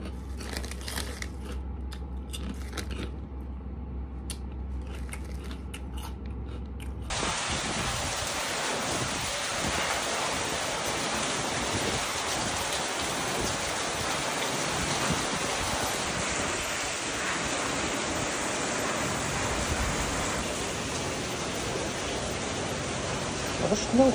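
Heavy rain from Typhoon Kristine pours in Laguna, Philippines in a dense, continuous roar after a quieter opening, loud and close throughout with no break.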